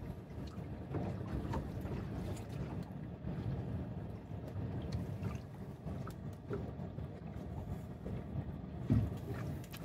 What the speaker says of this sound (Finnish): Suoraa kylkeä tulee etelästä tuulta